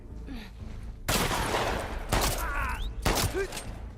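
Gunfire from The Last of Us Part II comes in three loud, sharp bursts of rapid shots, with a brief voice and quieter game sounds between them.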